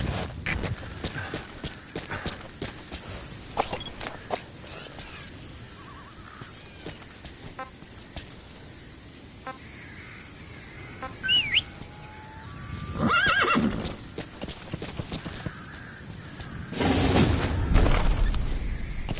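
A horse in a wilderness video game walks with light clip-clop hoofbeats and gives a neigh, set among owl hoots and ambient noise, with louder rushing bursts near the end.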